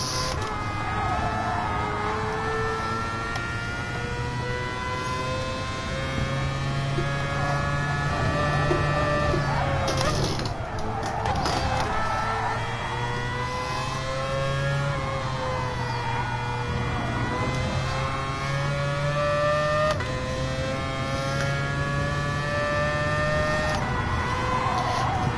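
A Mazda concept race car's engine in a PS4 racing game, droning steadily for a long stretch with pitch climbing and dipping as it accelerates and shifts, loud and up close with no talking.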